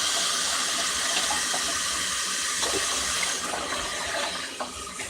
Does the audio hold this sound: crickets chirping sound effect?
no